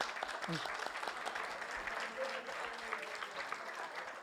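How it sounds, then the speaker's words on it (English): Mosque audience applauding at a Ramadan celebration of Imam Hassan's birthday, a faint, distant spread of clapping and crowd murmur, with a voice briefly heard near the start. "Give applause for Ameen, mashallah"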